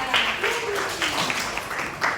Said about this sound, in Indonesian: Tepuk tangan dong Alia